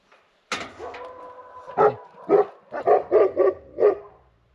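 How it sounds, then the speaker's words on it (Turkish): Several shepherd's dogs in a snowy mountain village bark loudly and close by at night, a long drawn-out howl-like bark followed by a rapid series of sharp barks in quick succession. "Köpekler bugün hiç yatmıyor."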